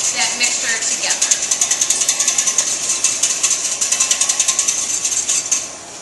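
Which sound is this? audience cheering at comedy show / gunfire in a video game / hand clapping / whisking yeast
whisking yeast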